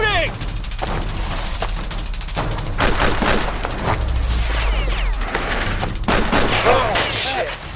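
Gunfire in a video game clip of Lara Croft versus Nathan Drake: repeated sharp shots and booming bursts in rapid clusters, loud and close, with voices shouting over the fighting.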